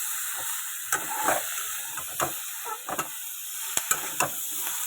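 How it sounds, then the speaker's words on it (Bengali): Chopped vegetables fry in hot oil in a home kitchen pan, a soft continuous sizzle broken by sharp scrapes and clicks of stirring every second or so, with no voices. "এই জন্য একটু ভালো করে আগে ভেজে নেবো সবজিগুলোকে"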